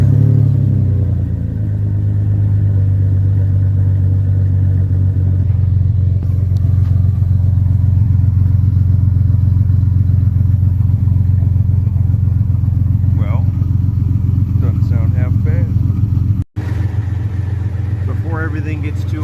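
A Jeep Cherokee fitted with a Flowmaster Super 40 Delta Flow muffler and new tailpipe idles steadily and loudly with a deep, continuous exhaust rumble, close by, with a brief cut near the end.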